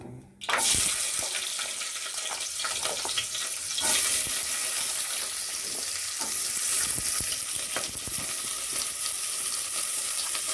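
Chopped onion hits hot oil in a pan where mustard seeds were just tempered for vegetable sambar, raising a loud, steady, close hiss and crackle that carries on without pause and with no voices.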